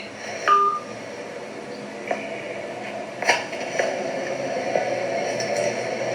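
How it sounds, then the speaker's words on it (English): Telephone tones sound as a call is hung up: a few short, separate beeps scattered over several seconds against a quiet hiss. "He just hung up the phone."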